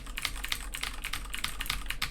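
Clicky typing on a newer Filco Majestouch 2 keyboard with Cherry MX Blue switches, a close, steady run of sharp key clicks at a quick even pace with no talk.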